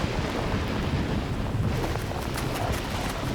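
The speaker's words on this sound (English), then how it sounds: "a massive storm is closing in" A massive storm closing in, with a loud, continuous wash of wind and rain and a deep rumbling roar that suggests thunder, filling the whole stretch with no voices over it.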